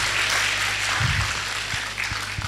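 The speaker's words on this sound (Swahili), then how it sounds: "Makofi kwao." An audience at an inter-university HR symposium applauding the Kisii University team, a steady wash of clapping throughout the room with a few sharper claps standing out toward the end.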